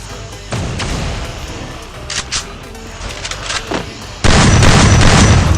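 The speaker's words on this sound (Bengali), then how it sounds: "গুলি করলে হয়তো একটা লাগে।" Free Fire video game gunshots and booms sound in scattered loud bursts over rumbling background noise, then a sudden sustained barrage near the end.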